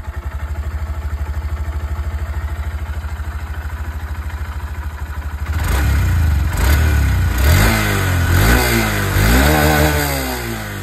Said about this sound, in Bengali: সবথেকে প্রথমে এসপি 125 এর আওয়াজটা আপনাদের শুনিয়ে দিই।